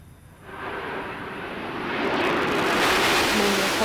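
Space Shuttle Endeavour gliding in to land with its landing gear down, heard as a broad rushing roar that swells steadily louder over a few seconds, like a jet passing close overhead.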